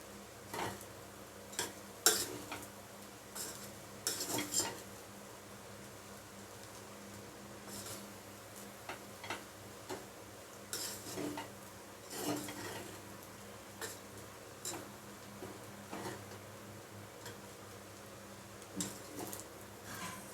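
Fried rice being stirred and tossed in a pan, with a soft sizzle under scattered light clicks and scrapes of a utensil against the pan, quiet and close, with no talking.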